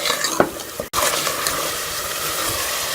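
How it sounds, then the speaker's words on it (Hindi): Cubed potatoes sizzle in a spice masala for an aloo mongray sabzi, with steady frying and close, repeated scraping of a spoon stirring the pan, no talk. "आलू को मसाले में मैं भून लूँगी"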